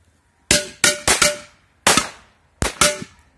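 Seven sharp firecracker bangs under a metal pot go off in quick irregular bursts, loud and close, each with a short metallic ring, separated by brief silences.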